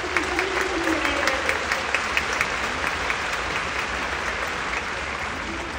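Warm concert-hall applause for a female timpanist at an orchestra show in Sofia, a broad steady roar of many hands with crisp individual claps, while a voice talks faintly beneath it early on.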